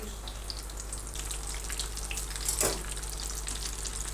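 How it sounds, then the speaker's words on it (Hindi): Potato cutlets frying in a pan, one side already golden, give a steady, moderately loud crackling sizzle with no talking, plus a brief brighter burst of spattering near the end. "अब एक तरफ से फ्राई हो गया, अब इसको पलटेंगे।"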